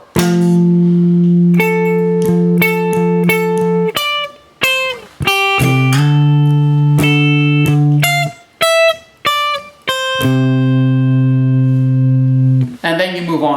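Electric guitar plays the last two bars of the second verse, sustained clean notes and double stops in a steady phrase with brief gaps, loud and close, no talking.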